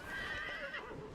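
Horse neighing in the video game Dragon Age Inquisition: a single short whinny with a falling, wavering pitch, fairly soft, with faint hoof clops beneath.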